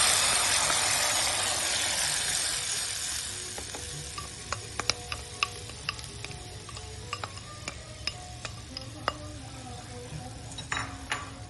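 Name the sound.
gravy masala frying in ghee on low flame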